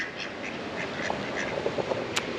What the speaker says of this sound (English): you get laughed at by ducks